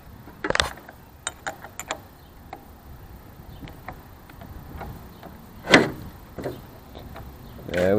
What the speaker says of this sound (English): Now I'm going to put my wrench on it here.